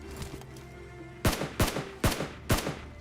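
Gunfire in PUBG Mobile: four sharp, loud shots at roughly half-second intervals, each with a short echoing tail, after a quieter stretch of faint background hum.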